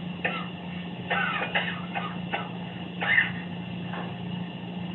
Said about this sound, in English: take a deep breath and cough